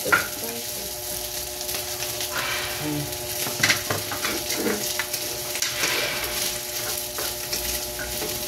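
Garlic fried rice sizzles steadily in a pan while a utensil stirs and scrapes through it, a close continuous frying hiss with irregular stirring clinks.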